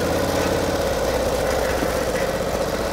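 A 1949 Harley-Davidson Panhead racer engine-braking in first gear while creeping down a steep hill, giving a steady, close, continuous mechanical drone with a knocking low-end pulse throughout, no talk.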